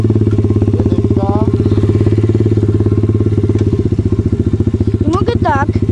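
A motorcycle engine idles steadily, then revs gently as the clutch is eased out in first gear and it pulls away, a loud, continuous low throb close by with some clatter.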